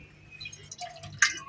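Juice pressed through a muslin cloth, with liquid dripping and trickling in a few faint, uneven drops, close by and quiet, and a brief louder splash near the end.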